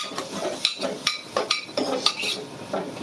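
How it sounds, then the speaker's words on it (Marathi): Masala sautéing in oil for a spicy Puneri misal pav is stirred with a metal spoon in a pan, a quick run of clinks and scrapes under a soft sizzle. "आता हा जो मसाला आहे तो तेलात हा सुद्धा छान परतून घ्यायचा"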